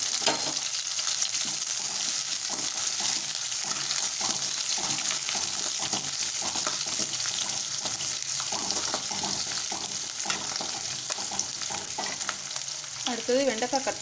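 Garlic and curry leaves frying in hot oil for a kara kulambu, a dense continuous sizzle with steady crackle and occasional stirring scrapes, close and even in level, no voices.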